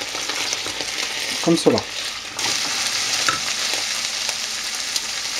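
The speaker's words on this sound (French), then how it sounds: "en les remuant régulièrement avec la cuillère en bois" Chicken escalope pieces fry in a pan for a chicken and mushroom risotto, a steady close sizzle with scraping stirs from a wooden spoon and a brief clatter, under a few quiet spoken words.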